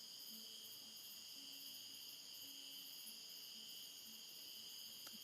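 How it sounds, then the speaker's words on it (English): Continuous high-pitched cricket chirping in a jungle fills the air, steady and unbroken, with faint low tones beneath and no one speaking. "the sounds of the crickets in the jungle and all the animals, insects"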